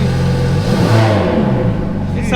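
A Ferrari F430 on its stock exhaust revs up close and loud, giving a rising, swelling engine roar that holds strong for a couple of seconds.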